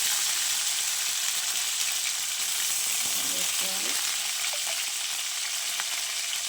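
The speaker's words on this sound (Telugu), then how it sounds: "ఆయిల్ వేసుకున్న తర్వాత జీలకర్ర వేసుకోవాలి." Cumin seeds sizzle in hot oil in a pan: a steady, loud, dense hiss holds for the whole stretch, with a few faint clinks near the middle.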